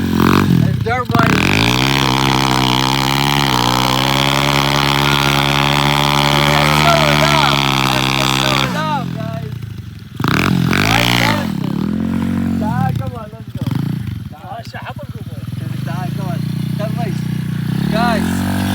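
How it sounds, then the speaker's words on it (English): A dirt bike engine runs loud and close, holding a steady high rev for several seconds, then revving up and down in rising and falling sweeps with brief dips, while voices talk over it. "We gonna race a dirt bike."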